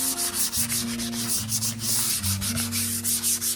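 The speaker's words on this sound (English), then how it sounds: "I'm just going to rub the filler in." Sandpaper rubs grain filler into the wood of an electric guitar body in steady back-and-forth scrubbing strokes, close and fairly loud, while music plays quietly underneath.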